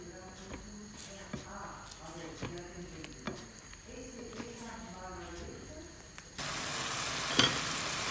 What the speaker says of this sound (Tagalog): Let's fry the champignon.